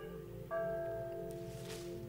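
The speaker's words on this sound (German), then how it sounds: "Die Glocke aktiviert hier die Blume." A bell rings once in the puzzle video game The Gardens Between, a clear sustained chime that sets in abruptly and lingers steadily over soft ambient game music, with no talking.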